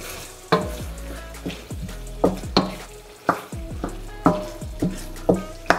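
Mushrooms frying in a pan for spaghetti sauce give a busy close sizzle broken by frequent clanking stirs and knocks of a utensil against the pan, with no talking.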